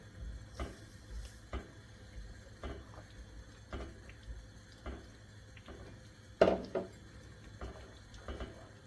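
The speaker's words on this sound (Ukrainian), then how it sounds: "Додаємо поступово і перемішуємо." A spoon scrapes and clinks against a pot as sugar is gradually stirred into warming gooseberry jam, quiet rhythmic knocks roughly every second with one sharper clank, close and alone.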